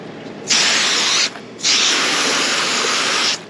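Two bursts of spraying water, one short and one longer, hiss loudly and close up while a fish fillet is rinsed outdoors.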